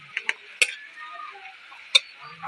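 Bean sprouts and sponge gourd sautéed in a pan, with soft sizzling under a few sharp clicks and taps of a utensil against the pan.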